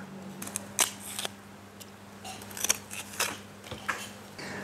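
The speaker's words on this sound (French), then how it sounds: "découper le manioc, enlever la peau" Fresh cassava being cut and peeled with a knife, giving a string of sharp, crisp cutting clicks and scrapes that come close up and fairly quiet, with a steady low hum behind them and no talk.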